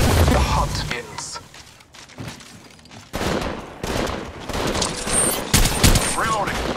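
Bursts of gunfire crack through a squad firefight in the mobile battle royale Apex Legends Mobile, loud and repeated with short pauses, heavy impacts and game voice lines calling out over the shots.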